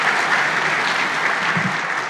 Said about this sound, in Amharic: አጨብጭቡ እስቲ በደንብ